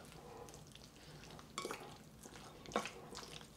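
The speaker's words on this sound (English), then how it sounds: "Two teaspoons of sugar and 1 tablespoon of cornstarch. And we're just gonna stir that around." Spoon stirring sugar and cornstarch into a soy sauce marinade for black bean chicken, a soft continuous scraping with two brief clinks against the bowl, close and quiet.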